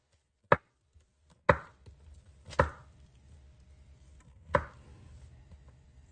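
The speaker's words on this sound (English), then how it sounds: "I'm so glad I learned this method of chopping diced onions." A knife chops onions on a cutting board in four sharp, evenly spaced strikes with brief pauses between, close and clear over a quiet kitchen background.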